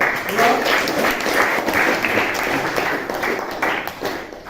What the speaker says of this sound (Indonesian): coba berikan aplaus dulu untuk kelompok